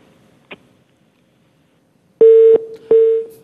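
Telephone call-drop tone on a live call-in broadcast: a steady electronic beep sounds twice in loud, even bursts about half a second long, separated by short gaps, after a faint brief click in near silence.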